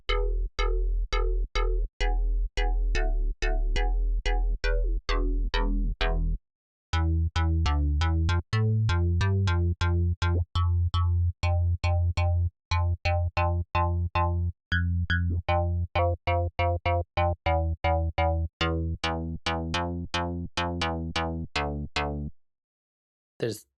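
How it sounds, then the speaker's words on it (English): A synthesizer in Ableton Live built only from sine waves plays a fast sequence of short, plucked electronic tones, with a few brief silent gaps and no voices. "I am only using sine waves."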